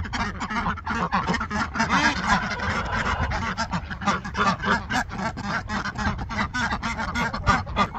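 A group of female farm ducks quacks loudly and nonstop, a dense, close chorus of overlapping calls with no pauses.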